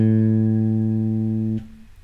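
A single low bass guitar note from a Mixolydian pentatonic blues line rings out steady and close for about a second and a half, then is cut off into a rest.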